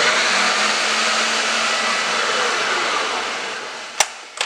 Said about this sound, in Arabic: بنرجع بنحط الخلاط يشتغل